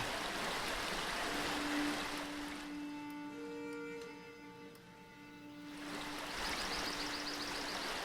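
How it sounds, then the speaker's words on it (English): Flowing stream in a medieval city-builder video game, a steady rushing water sound that fades out midway under a soft tonal passage, then swells back to a full continuous wash. "Nope, just the stream."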